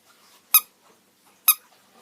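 A squeaky dog toy called Mr. Squeaky gives two sharp, bright squeaks about a second apart, close and clear against near silence.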